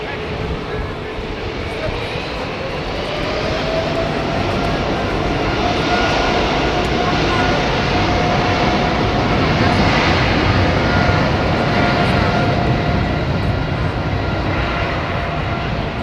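A Brussels Airlines airliner departs Heathrow in the evening, its engine roar steady and broad for the whole stretch, swelling slightly toward the middle as it climbs out, with no voices over it.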